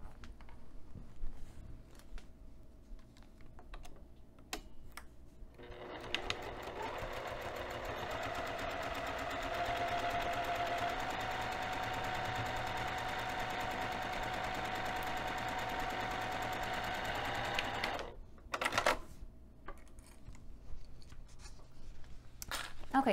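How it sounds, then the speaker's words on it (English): A sewing machine stitches through paper and fabric steadily for about twelve seconds, a continuous mechanical whir, preceded and followed by brief handling clicks and quiet rustling. "let's take this over to the sewing machine"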